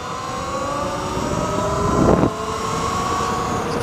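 A Talaria R MX4 electric dirt bike runs at full throttle on a dirt track, a rising electric motor whine with a steady tonal hum under heavy wind rush, swelling briefly as it passes close.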